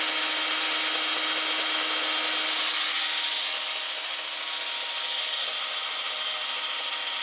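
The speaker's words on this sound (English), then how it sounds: "Are you trying to drill it straight in?" A power drill bores into wood with a steady, continuous grinding whir, close and even in level throughout, with no talking.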